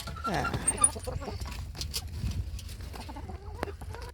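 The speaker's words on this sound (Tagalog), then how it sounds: "Yung mga nagabang namin na chicken." Backyard chickens clucking close by in a garden, a few short clucks and squawks early on followed by softer scattered clucking.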